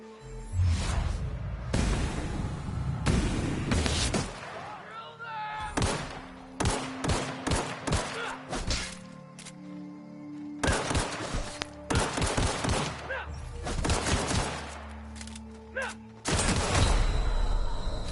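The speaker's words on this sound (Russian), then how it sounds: "я его стрелял, но не попадал" Video game gunfire: repeated sharp bursts and volleys of shots with booming hits, spread across the span in clusters separated by short lulls, with a voice speaking between them.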